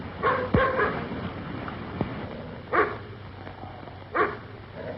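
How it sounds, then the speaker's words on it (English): A dog barking to be let in within a 1937 film scene: a few sharp barks spaced a second or more apart, moderately loud over a soft hissy background, with no talking. "What's he barking for?"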